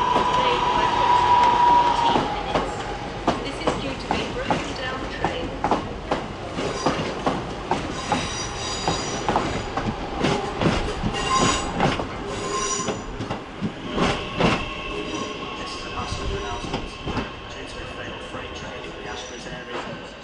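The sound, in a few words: train at Manchester station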